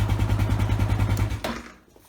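A Kawasaki KLR 650 single-cylinder motorcycle engine thumping steadily up close on a test ride after valve shim and timing chain work, then the throttle rolls off and the engine fades.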